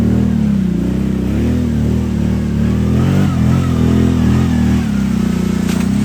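A Kawasaki Brute Force 750 ATV engine idles and creeps steadily through a mud hole, a loud continuous low rumble with slight rises in revs.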